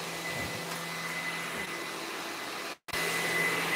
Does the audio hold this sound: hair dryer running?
yes